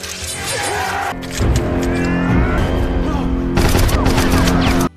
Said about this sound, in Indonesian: mereka semua mati karena ditembak pasukan Guru Tai